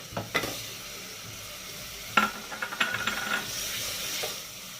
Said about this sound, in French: là, je vais rajouter la viande